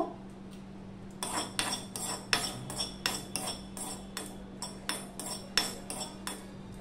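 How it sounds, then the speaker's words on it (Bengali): Cashew nuts and poppy seeds stirred in a wok, heard as a steady series of sharp metallic spoon scrapes and taps against the pan, about a dozen close, evenly spaced strokes over a low constant hum. "এই কাজু বাদাম আর পোস্তটা আমি একটু কড়াইতে নেড়ে নেব"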